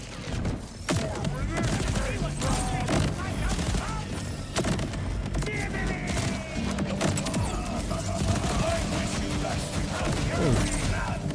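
Dense, continuous gunfire from homing copies in Borderlands 4, with rapid overlapping shots and mechanical clatter under game sound and intermittent talk.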